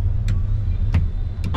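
A line of cars queues on a road on a road trip near Agra, with a steady low engine rumble and a few brief passing whooshes close by.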